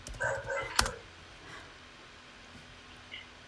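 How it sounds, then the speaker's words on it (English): A dog barks a few times in the background, short yips and barks in the first second, then a faint whimper or yip later, heard from a distance. "I don't know if you can hear the background. My dog is in the background."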